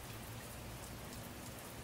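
Rain falls in a steady, dense hiss, a constant close patter with no pauses and no voices.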